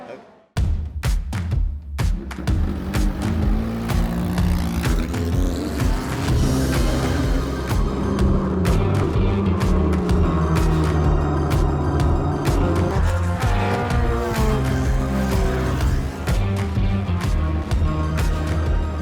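A vintage race car from South Africa's racing heritage drives hard on a circuit, its engine roaring loudly and continuously through shifts and passes for the whole stretch, with no voices.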